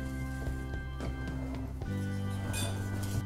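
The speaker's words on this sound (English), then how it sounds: "And then I'm just going to mix the egg in with it" Egg being mixed into canned pumpkin for pie in a bowl: soft repeated clinks and scrapes of a utensil against the dish in an uneven stirring rhythm, fairly quiet over a steady background hum.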